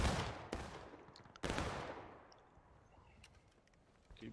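Musket gunfire in War of Rights: two sharp, close volleys crack about a second apart, then a faint spread of distant scattered shots trails through the rest of the moment.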